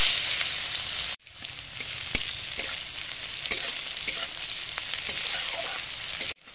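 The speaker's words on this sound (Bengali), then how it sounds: "মাছ ভাজার এই তেলের মধ্যে ফোড়নের জন্য দিয়ে দেব পেঁয়াজ কুচিগুলো" Chopped onions fry in leftover fish-frying oil for a Bengali tangra fish curry, a loud continuous sizzle with stirring scrapes, briefly dropping out near the start before resuming, no talk.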